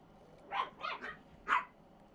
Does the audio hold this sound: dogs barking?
yes